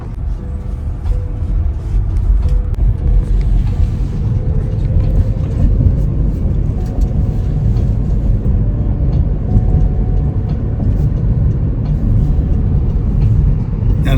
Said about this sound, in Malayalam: 35 മിനിറ്റ് ഡ്രൈവർ ഇല്ലാണ്ട് നമ്മൾ പോവുകയാണ്